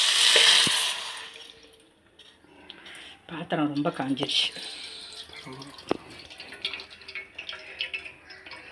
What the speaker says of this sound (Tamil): அந்த புளியை வந்து கரைச்சி விட போகிறோம்